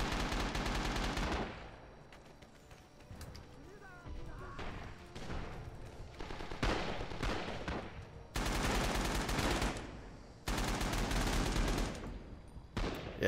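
Loud automatic gunfire in the video game Rising Storm rattles in long sustained bursts, broken by shorter scattered shots and quieter gaps, with a voice talking in between.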